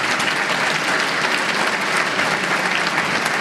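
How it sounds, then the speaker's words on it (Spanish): An audience claps warmly in a hall at a Yoruba cultural gathering in Mexico, a dense, even wash of many hands that holds steady for a few seconds without voices over it. "Damos un aplauso para recibir a Nelson Álvarez."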